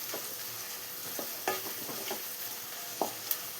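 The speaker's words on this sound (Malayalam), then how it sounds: "ഇതൊരു ഗോൾഡൻ ബ്രൗൺ കളറാവുന്ന വരെ നമുക്കൊന്ന് വഴറ്റിയെടുക്കാം." Onions sauté in a pan toward golden brown for egg rice, a soft continuous sizzle heard close but fairly quiet. A few sharp scrapes and taps of a stirring utensil break through it.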